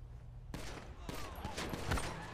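Gunfire in GTA V roleplay on a NoPixel server, a few sharp shots followed by a rapid volley, close and loud against background game noise.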